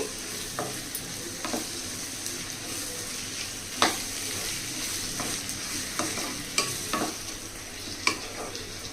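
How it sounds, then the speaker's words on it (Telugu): Sliced tomatoes stirred into a frying egg curry masala, with a steady sizzle underneath and repeated scraping, knocking spoon strokes against the pan, close and alone without voices. "ఇవి వేసేసుకోవాలి ఇప్పుడు ఒకసారి బాగా కలపాలండి"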